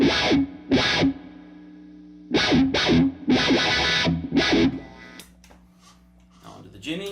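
A distorted guitar chord on the burn channel of a Supersonic 22 amp swells through a Cry Baby Wylde wah pedal sweep, struck several times in loud bursts, with someone talking briefly near the end.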